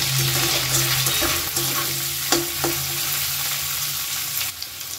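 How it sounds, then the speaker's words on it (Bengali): Potatoes, cauliflower florets and peanuts fry in hot oil in a pan, a steady close sizzle with occasional stirring scrapes and clinks throughout. "আলু, ফুলকপি, বাদাম মোটামুটি ভাজা হয়ে গেছে।"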